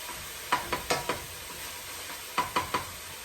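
Ginger pork stirred and fried in a pan, a light sizzle under sharp spatula scrapes that come in two quick bursts of about four strokes each, close and without talk.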